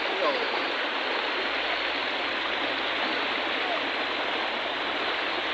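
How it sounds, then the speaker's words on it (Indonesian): The Sungai Air Hitam river flows near Desa Makmur Jaya in Mukomuko, a dense, constant rushing wash of water, close and loud without a break. "Ini namanya Sungai Air Hitam kan?"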